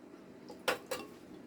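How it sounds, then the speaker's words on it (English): Metal canning lids being turned finger tight onto hot jars of peaches, two quick close scraping clicks against a quiet kitchen background. "we're going to put the lids on finger tight."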